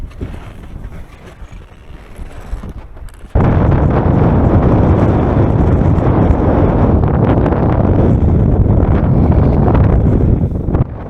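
Strong wind on a snowy slope of Denali in Alaska roars against the microphone, rough and gusting at first, then jumping to a loud, constant battering blast that holds until the end.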